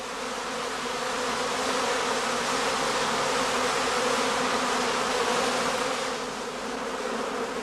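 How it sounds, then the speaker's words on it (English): Honeybees buzz around heather skep hives during swarming season, a dense, continuous drone of many insects holding steady and close throughout. "The bees are now restless and run back and forth in the beeways"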